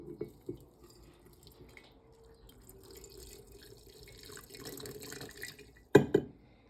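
Water runs and trickles softly into a container during a Dyer's Greenweed dye preparation, a faint flowing pour that swells toward the end, followed by two sharp clunks.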